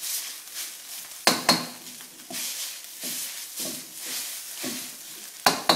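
Egg being worked into hot rice in a pan for Thai basil fried rice, with a continuous sizzle broken by scraping stir strokes and a few sharp metallic clanks of the utensil against the pan, close up and without talk.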